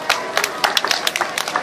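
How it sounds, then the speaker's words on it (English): Audience applause at a talk, a brief burst of scattered hand claps from a small crowd, moderately close and irregular. "Round of applause,"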